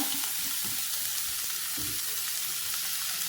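Tomatoes fry with onion in a pan, making a steady, close sizzling hiss with a few soft low stirring bumps underneath.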